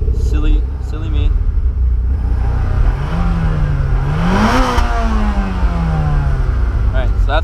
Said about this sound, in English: That's what a stock Evo sounds. Rev it for you? Yeah, give it a rev.